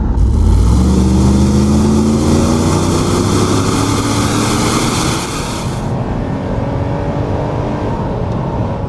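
A classic Mercedes fitted with a Porsche V8 accelerates hard, a loud close engine roar climbing steadily through the gears for about five seconds before easing to a lower cruising drone, with no talking.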